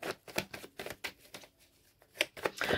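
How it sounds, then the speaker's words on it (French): Tarot cards being covered on a table, giving soft, close papery slides and taps in a quick irregular run, with no speech. "Je vais quand même recouvrir les cartes ici."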